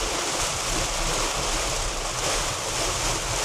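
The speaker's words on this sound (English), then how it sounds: "I can hear just the sheeting action of the tires hitting this water." Car tires plough through standing water on a rain-soaked road, a loud continuous rushing hiss and spray that stays steady throughout.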